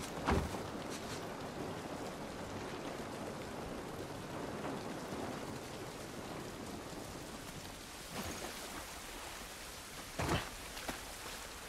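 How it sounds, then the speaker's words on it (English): Steady rain pours down in a continuous dense hiss in the video game The Last of Us Part 1, with a few sharper thumps breaking through the downpour. "This rain ain't gonna do us any good."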